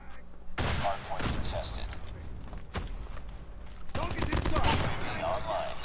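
Gunfire in the mobile shooter Call of Duty Mobile comes as loud, rapid automatic bursts and single shots in close succession, mixed with game effects, with a player talking over it.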